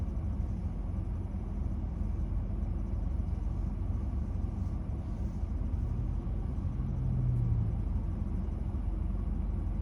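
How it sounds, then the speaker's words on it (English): A car doing circles in a school parking lot gives a steady, low engine rumble that swells slightly toward the end, with no voices. "I don't know what this dude is driving, doing circles in the school parking lot"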